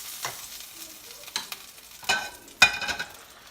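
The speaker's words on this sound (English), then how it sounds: "Just going to take this filet and I'm going to stick it inside the Diane sauce" Filet steak set into a pan of Diane sauce, giving soft intermittent sizzles and a few sharper crackling bursts near the pan, with quiet gaps between them.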